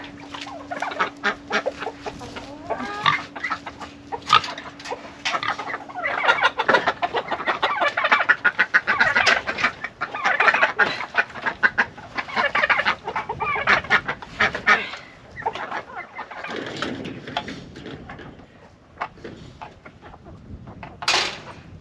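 A flock of backyard chickens clucking close by, with busy overlapping clucks and squawks in uneven bursts, loud and continuous with no talk.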